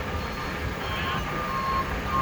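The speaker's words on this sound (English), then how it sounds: "there's a dump truck backing up" Dump truck backing up at an excavation site for a watermain installation, its steady reversing beeps sounding over a loud continuous rumble of engines and heavy machinery.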